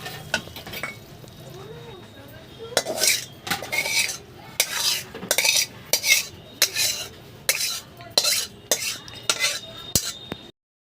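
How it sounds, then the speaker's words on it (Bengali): Metal spoon scraping and clattering in a pot of hilsa fish mustard curry, repeated rhythmic stirring strokes close up over a faint simmer, growing busier then stopping abruptly. "এবার নাড়াচাড়া দিয়ে ভালো করে নামিয়ে নেব"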